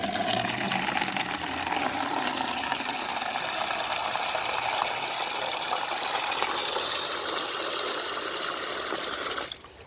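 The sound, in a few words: water being poured into a small swimming pool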